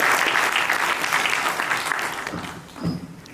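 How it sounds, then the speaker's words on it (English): Audience applause for a guest speaker at a university speaker series, a dense steady wash of many hands clapping that thins out toward the end as a voice starts in faintly. "So everyone give him another round of applause."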